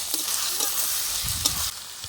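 Garlic and ginger paste with masala frying and being stirred in a pan for chicken kanti, a steady close sizzle with scraping stir strokes and a brief clatter near the end, no talking.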